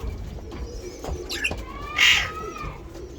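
Pigeons in a backyard loft of prized breeding birds give soft coos and a few sharper calls, with one louder burst of wingbeats or scuffling near the middle, close by and without talk.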